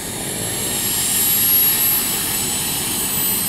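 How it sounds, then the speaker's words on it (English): A model turbine engine in a Vario Bell 429 helicopter spools up toward flight RPM, a steady, loud, high-pitched jet whine with a slight swell, heard alone and close. "now I'm telling it to come up to flight RPM"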